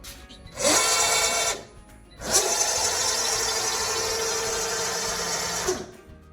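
A liquid filling machine driven by a servo motor runs in two steady, high-pitched whirring bursts, a short one and then a longer one, separated by a brief pause. The sound is close and loud, with no talking.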